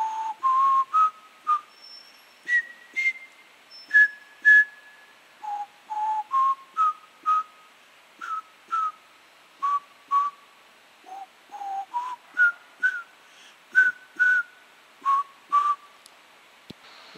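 A person whistles a tune alone, a series of clear, sustained notes rising and falling in pitch, with short pauses between phrases over about seventeen seconds.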